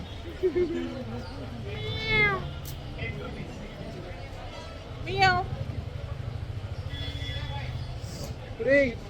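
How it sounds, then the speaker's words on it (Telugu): A cat meows several times, drawn-out and fairly close, over a low steady engine rumble and the murmur of people talking nearby. "మిసాల్ పిల్లి వచ్చింది"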